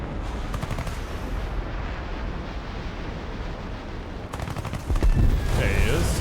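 Gunfire and a large explosion in a War Thunder-style flight combat game with Swedish aircraft: steady dense crackle of shots throughout, then a louder burst near the end with a rising whine.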